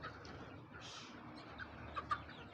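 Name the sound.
native chickens clucking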